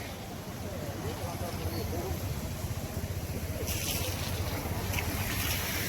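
Fast floodwater of the Godavari river in Nashik rushes beneath a bridge, a steady, loud broadband roar filling the whole stretch with wind buffeting the microphone.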